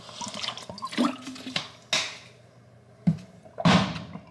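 Water spitting out of a tap and dripping, heard close as a few irregular splashes and spurts with short quiet gaps between them.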